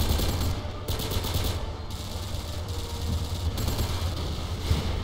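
AK rifle fire in a video game, loud sustained automatic bursts with dense rattling shots filling the whole stretch, over a low rumbling engine-like drone.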